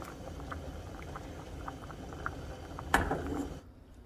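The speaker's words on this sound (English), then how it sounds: "I'm going to let my pasta boil for about, I don't know, 10 minutes." Pasta boils in a pot of water, a soft steady bubbling with small pops, then a brief louder splash or clatter near the end before the sound drops away.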